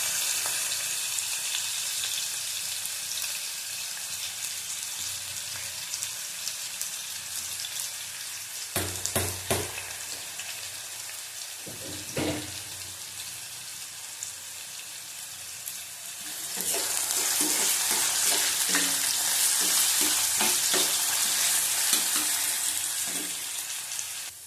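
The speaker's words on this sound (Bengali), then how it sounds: "দেবো একটা আলু, ভালো করে ভেজে দেবো।" Potato frying in oil in a pan, a continuous moderate sizzle with a few sharper clatters of stirring midway, then the frying swells louder and brighter for the last stretch; no talking.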